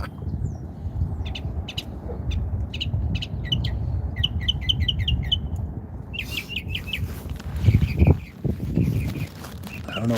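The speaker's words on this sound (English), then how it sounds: "I don't know what kind of bird that is" A small songbird sings repeated bright chirps and trills outdoors on a walk, moderately near, with rustling footsteps and low ambient rumble beneath; the phrases quicken into rapid bursts partway through.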